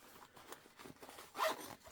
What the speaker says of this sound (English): You might need to open the zipper pocket and get it to lay flat also.